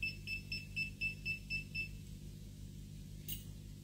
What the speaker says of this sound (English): make the tracker beep to find the item